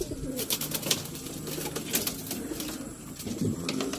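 Pigeons coo softly and steadily during outdoor pigeon training, low throaty calls repeating over faint background noise.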